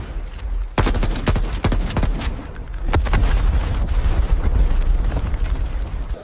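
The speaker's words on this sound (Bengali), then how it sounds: "এই নাও অস্ত্র, ফায়ার করো। এটা শুটিং টেস্ট।" Gunfire in a shooting test plays as a dense, continuous barrage of loud shots and booms, with sharp bursts standing out over a rumbling background throughout.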